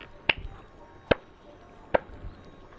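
Three sharp, evenly spaced claps ring out in the video game Epic Mickey after animatronic Daisy is repaired, each a crisp isolated snap over a faint background hum.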